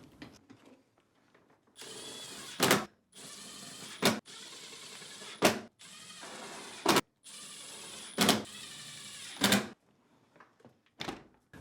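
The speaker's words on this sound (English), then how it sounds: "reinstall the remaining screws" Screws being driven back into a Whirlpool dishwasher door panel, several long whirring runs each ending in a sharp louder burst, repeated about six times with brief pauses, close and fairly quiet.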